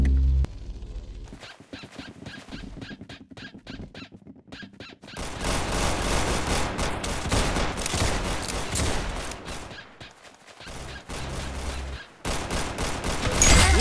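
Rapid video game gunfire crackles in dense bursts, sparse at first and then a loud, nearly continuous barrage with brief pauses and a short gap near the end.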